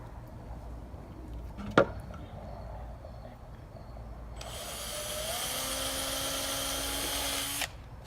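A power drill whirs for a few seconds drilling pilot holes in a wooden sign, a steady high-pitched spin that starts and stops cleanly, preceded by a single sharp tap.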